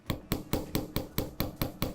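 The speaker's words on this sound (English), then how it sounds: "I don't want to do too much hammering with my chasing hammer" Chasing hammer striking wire to flatten it for a leaf pendant, eight sharp metallic taps at an even, quick rhythm, close and clear with no talking.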